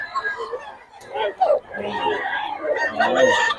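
Roosters crowing and clucking up close, overlapping with people chattering nearby in a busy, noisy setting where chickens are being sold in Bocaue.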